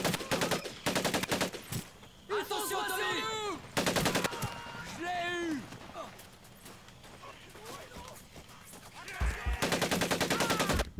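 Bursts of rapid automatic gunfire from Medal of Honor: Pacific Assault, loud and close, come in several sustained volleys separated by game voices shouting and someone talking over the action.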